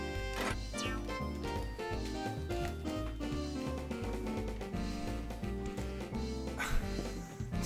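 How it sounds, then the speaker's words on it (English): A dog barks and whimpers in short repeated bursts, loud and close, over a dense, steady backdrop of music. "my dog is being nuts right now."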